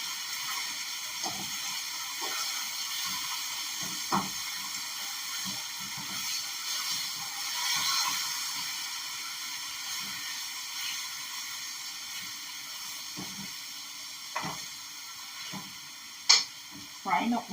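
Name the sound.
meat frying and sizzling in a pan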